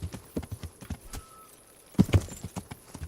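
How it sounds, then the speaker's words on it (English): A war horse gallops in a video game, its loud, close hoofbeats coming in quick uneven bursts with a short lull midway, and no talking over them. "for I have the war horse yonder"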